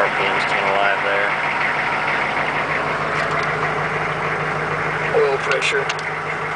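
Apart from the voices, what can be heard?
2003 Hummer H1 engine starting and idling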